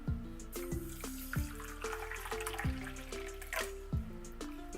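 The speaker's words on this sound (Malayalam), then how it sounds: "വെള്ളം ഒഴിച്ച് കുതിർത്തി വയ്ക്കാം." Water pours and drips into a bowl of basil seeds set to soak for kulukki sarbath, a steady trickle with bright splashing plops, fairly quiet and close, with no voices.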